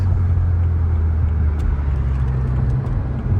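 A BMW E92 335i with a BMS air intake accelerates, its engine a steady, loud low drone heard from inside the car, with the rising tone holding throughout.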